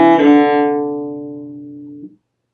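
A cello plays a note at tempo, sounding close and full before fading away over about two seconds, with no speech.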